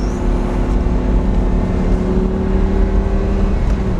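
A powerful Lamborghini Gallardo Spyder engine drones loudly and steadily, a low, sustained growl with a faint rise in pitch, no voices.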